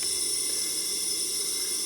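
A budget DIY smoke machine, battery-powered, steams with a steady, unbroken hiss that stays close and constant, with no voices over it.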